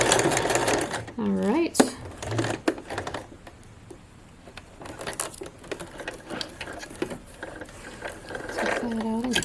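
A sewing machine backstitches along the horsehair hem of a formal dress, with rapid mechanical chattering runs that start and stop, close up, and someone speaks briefly between the runs.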